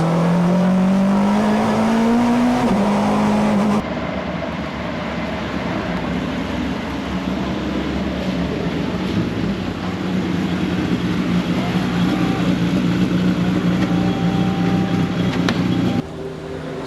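Onboard a 1996 Honda Accord super touring race car on a wet, cold Brands Hatch circuit, the engine screams up through a rising rev, drops on a shift, then holds a loud, harsh roar with road and spray noise.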